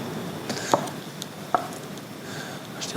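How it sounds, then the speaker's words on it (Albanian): A knife cuts hard cheese into small cubes for a rocket and cherry tomato salad, giving a few sparse, soft taps on a cutting board against a quiet kitchen background. "Presim edhe djathin kocka,"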